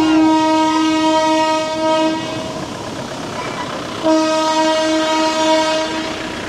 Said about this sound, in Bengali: মানে হঠাৎ করে ট্রেন চলে এসছে, সব বাইক যেমন তেমন করে সরাতে হয়েছে আর কি।